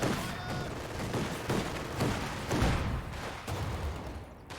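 Gunfire from snipers and other weapons in the World War II strategy video game Company of Heroes 2, a dense run of loud overlapping shots and bursts with battle noise, no talking.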